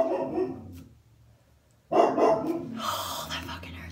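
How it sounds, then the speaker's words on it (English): A few dog barks at a neighbor sound from nearby, short bursts separated by a quiet gap, with faint breathing or soft voice around them. "And they're barking at the neighbor again."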